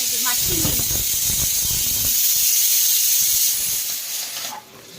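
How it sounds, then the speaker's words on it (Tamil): Shallots and curry leaves sautéing in sesame oil give a steady, bright hiss and sizzle, close and fairly loud, with faint clinks and a voice talking at the start before the sizzle settles and briefly drops near the end. "சின்ன வெங்காயம் போட்டிருக்கேன். வதக்கிட்டு இருக்கேன்."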